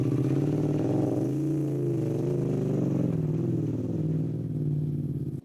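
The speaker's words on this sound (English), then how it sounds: "I'm going to start in first gear, I'm going to put on a bit of throttle" A big motorcycle in first gear pulls through sand with a bit of throttle, its engine holding a steady, loud, close drone whose pitch wavers slightly throughout.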